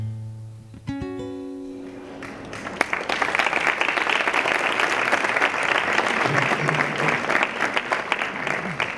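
Audience at a book presentation and poetry reading breaks into applause after a poem: a few tonal notes, then sustained, dense clapping swells in and continues steadily to the end, filling the room.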